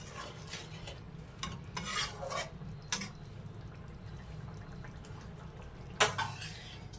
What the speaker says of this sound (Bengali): দিয়ে আর একবার নেড়ে নেব গরম মশলাটা দিয়ে